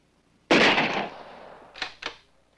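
A single sharp gunshot fired at a target for a high-speed strobe photograph, loud and close, with a long decaying crack followed by two smaller thuds.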